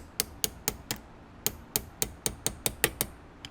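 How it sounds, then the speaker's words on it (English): A 2-ounce hammer taps lightly on a spring inside an LC Smith shotgun action, about a dozen sharp metallic strikes in a steady, even rhythm, close and clear with no talking. "I'm not hitting this very hard, but the reason why I asked for the 2-ounce hammer was because I wanted a little bit more control"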